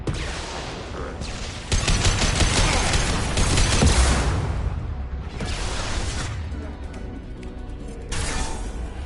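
A hacked turret fires bursts of automatic gunfire in Mass Effect, loud sustained volleys with short pauses between them, under game alerts and a synthetic voice.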